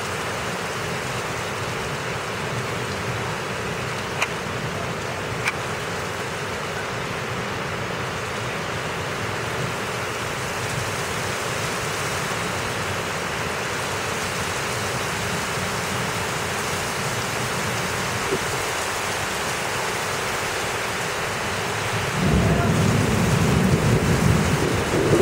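Steady rain pouring down during a Cleveland thunderstorm near Lake Erie, a dense continuous hiss with low thunder rumbling beneath, swelling into a louder rumble near the end.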